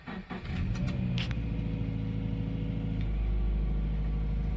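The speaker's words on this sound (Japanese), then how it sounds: "エンジンの方がかかっていきます" A manual Toyota 86 GT Limited with about 90,000 km is started by push button with the clutch held: a brief starter crank catches at once into a steady idle, which settles lower after a few seconds.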